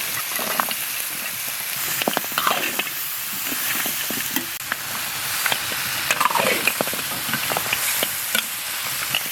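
Mutton tendons stir-fried with chili sauce and spices in a hot pan, a steady close sizzle and hiss with scraping spatula strokes and small pops throughout, no talking.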